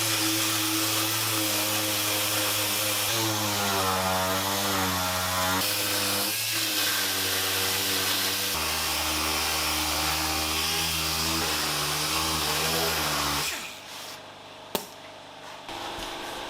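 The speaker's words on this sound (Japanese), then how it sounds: "ペーパーで削ってこんな感じです。" A power sander with 120-grit paper grinds a badly damaged AE86 bumper, giving a loud, continuous whining motor drone that rises and falls in pitch, then cuts off near the end, followed by a single sharp clack.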